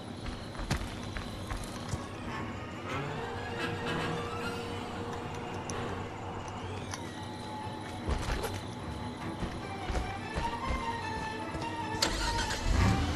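A car engine runs in Friday the 13th The Game, a steady mechanical hum with revving shifts and some clunks and footstep-like knocks over it, moderately loud and with no talking.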